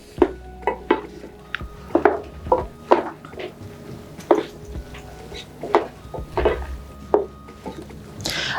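Spicy nkwobi is stirred in a pot, with irregular clinks and knocks of a spoon against the vessel, close and fairly loud, with no talk.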